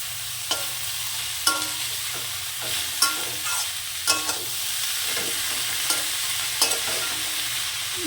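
Red amaranth leaves being stirred in a frying pan, with a steady low sizzle under repeated clinks and scrapes of a spatula at an uneven rhythm, close by, no talking.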